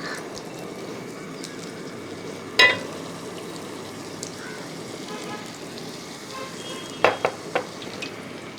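Steady oil sizzle as batter-dipped bajji snacks fry, a soft continuous crackle with a few sharp clicks of utensils and pan contact, close by and moderately quiet.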